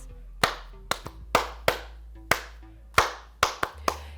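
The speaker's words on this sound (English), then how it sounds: "I have to stop here for a quick second and just give a round of applause." One person clapping alone, about nine sharp, close hand claps in an uneven rhythm with short pauses, loud and dry against a low steady hum.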